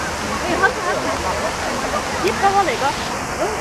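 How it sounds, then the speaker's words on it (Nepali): Water cascades down a pillar water feature inside a shopping mall in China, a constant rushing hiss under nearby voices and echoing indoor chatter. "पिलरको माथिसम्म पुगेर पानी चाहिँ पिलर मार्फत झरिरहेको अवस्था देख्न सकिन्छ"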